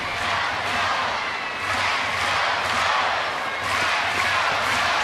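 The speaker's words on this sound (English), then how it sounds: "The announced attendance cheering on the Orioles here in the bottom of the ninth." Baseball crowd at an Orioles home game in the bottom of the ninth against Toronto, a broad steady roar of cheering that swells in waves and never drops away.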